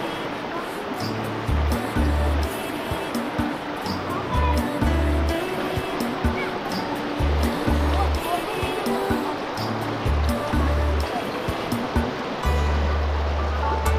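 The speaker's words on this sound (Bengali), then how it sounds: "এই হলো নদী" Continuous rushing water of the Relling Rangit river flowing beside a cottage, a broad steady roar with intermittent low thumps and knocks layered over it.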